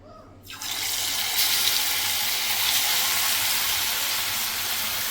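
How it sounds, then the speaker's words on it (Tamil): Chicken 65 and chilli drop into hot oil in a pan: a sudden burst, then a loud, steady hissing sizzle that continues unbroken to the end. "பொரிச்சு எடுத்துடலாம் சூடாக."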